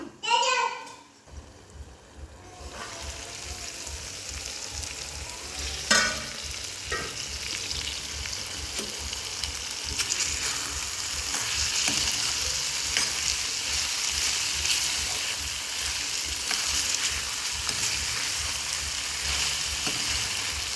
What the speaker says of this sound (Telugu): ఈ వంకాయ ముక్కలు అనేది ఒక 2 నిమిషాల పాటు ఉడికించుకుందాం